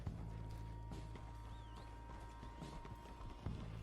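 Hooves clip-clop in a steady walking rhythm from a horse in a western video game, quiet and somewhat muffled, mixed with creaking tack and low background game ambience.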